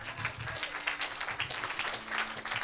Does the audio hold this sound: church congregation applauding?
yes